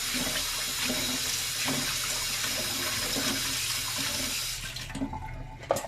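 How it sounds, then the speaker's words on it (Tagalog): Pork meat from a wet market being washed under a running kitchen tap, a steady loud rush of water splashing into the sink that cuts off near the end, leaving a few drips and handling sounds. "Hugasan mabuti ang ating karne kasi binili namin ito sa wet market"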